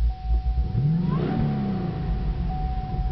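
A 2013 Chevrolet Camaro ZL1 salvage car with its hood open starts up and settles into a running idle, a rising crank-and-catch followed by a steady, close engine note with no talking.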